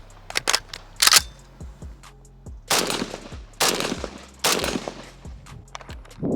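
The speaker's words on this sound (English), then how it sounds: "shoot an STG 58 with a lot of rounds on it" Bursts of gunfire from an STG 58 FAL rifle, loud and close, with a few single shots at first and then longer rapid strings of shots, each ringing out briefly before the next.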